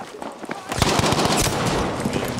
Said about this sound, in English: Shotgun from the distance.